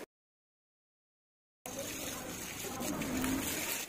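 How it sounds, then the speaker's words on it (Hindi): Room heater covers being washed with soap solution and warm water, a steady running and trickling water sound that starts abruptly after silence and continues evenly, fairly close. "जहां स्पॉट है उसे सोप सॉल्यूशन से वॉश करते हैं।"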